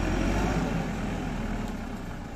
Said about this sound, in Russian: Вот у нас поезжает последний трактор.